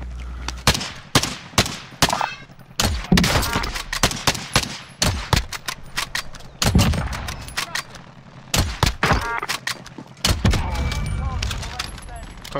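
Sniper rifle shots in a video game, a series of sharp, loud cracks fired at irregular intervals, some in quick pairs, with players talking in between.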